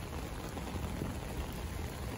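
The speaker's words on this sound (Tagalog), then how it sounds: "Medyo ang lakas ng ulan dito dahil sa pagsiktang ng thunderstorm." Steady, dense rain from a thunderstorm pours down continuously, a loud hiss with no pauses.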